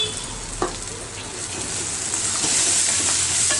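Ginger frying in a pan for a chutney gives a steady, close hiss of sizzling oil with a faint stir near the start, continuous and unbroken throughout, with no one speaking.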